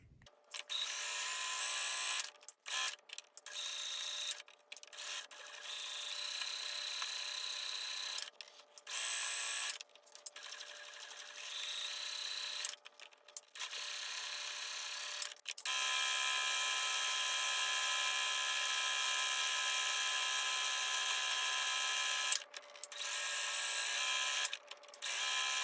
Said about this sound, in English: So now I finished sewing this in, and I sewed all along the edges up here.